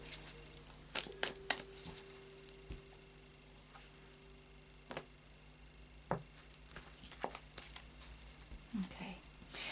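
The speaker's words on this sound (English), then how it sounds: "I'll just do a final shuffle of the Tarot of Dreams." Soft, irregular tapping and papery riffles come from a Tarot of Dreams card deck being shuffled close by, with a person speaking quietly in between.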